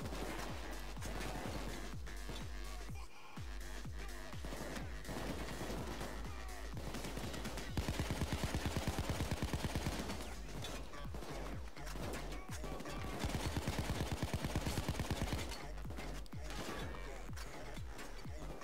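Heavy gunfire in the bank-robbery video game Payday 2: dense bursts of automatic fire and rapid shots crackle almost nonstop, loud and close, with sharper volleys swelling in the middle and near the end.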